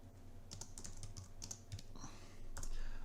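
Computer keyboard keys clatter in quick irregular bursts while a folder is renamed, fairly faint against a steady low room hum.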